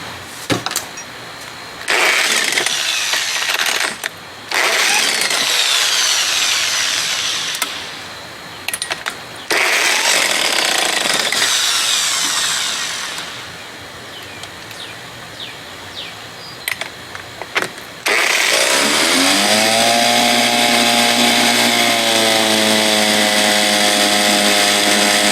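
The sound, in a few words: power drill running during outboard motor repair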